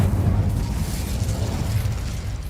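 An Incendio fire spell cast in the Hogwarts Legacy game, a loud, dense whooshing roar of flame with a rumbling low end, sustained at an even level for a couple of seconds with no speech.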